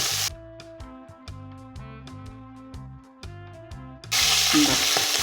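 Fish fries in a pan with a loud, steady sizzle that bursts in abruptly near the end, after several seconds of plucked, melodic background music with no sizzling.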